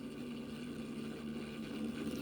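A 3D printed rotor, 50 millimetres across and 55 millimetres long, spins at around 9,000 RPM, making a steady, sustained high-pitched whine and whir, close and even, with no talking.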